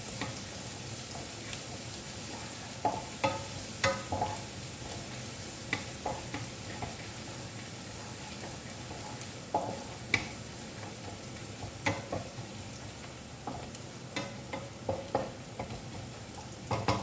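Food frying in a pan toward golden brown, a soft steady sizzle with scattered light ticks and spatters throughout, fairly quiet and without talk.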